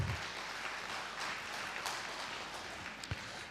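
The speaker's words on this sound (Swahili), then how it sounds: "Tumpigie makofi." An audience at an agricultural conference session applauds, a soft, steady wash of clapping heard from a distance, fairly faint throughout.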